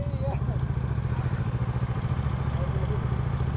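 A motorcycle engine idles close by with a steady low, throbbing putter that runs unbroken throughout, with no other sounds over it.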